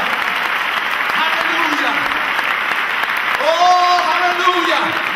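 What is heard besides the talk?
church congregation applauding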